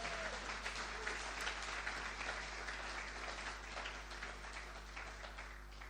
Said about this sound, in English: I believe they all deserve a round of applause